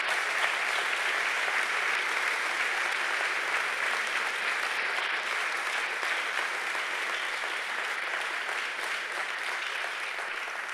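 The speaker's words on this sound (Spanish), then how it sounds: "aplauso a Jesucristo" A church congregation gives a strong round of applause during a Sunday service, a thick, sustained roar of many hands clapping at once that holds steady and loud for several seconds.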